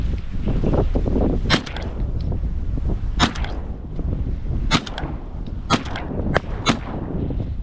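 Repeated shotgun blasts during a duck hunt at Paliastomi, several sharp loud reports spaced irregularly over steady outdoor wind and rumble, with no talking.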